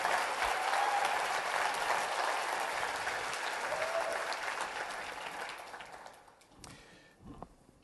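A crowd at a product presentation gives a loud, sustained round of applause for the designer and R&D team, the clapping thinning out and fading toward the end with a few last scattered claps.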